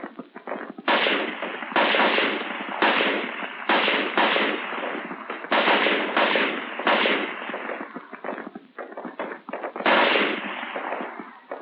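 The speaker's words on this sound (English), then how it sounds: "For your rapid fire zero, you fire 3 groups of 3 rounds each. Followed by a string of 10 rounds." M14 rifle rapid-fired on a 1960s Marine Corps range, a string of sharp, loud cracks in quick groups with brief gaps between bursts, heard alone without talk.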